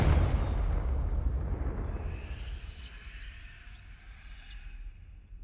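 A Confringo fire-blast spell detonates in the Hogwarts Legacy video game, one heavy explosion booming loudly at the start and then rumbling away over several seconds, with a few faint crackles in the tail and no talking.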